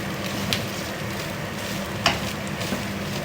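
Chicken fries in a pan, a steady close sizzle with a few sharp clicks and scrapes as it is stirred, and no talking.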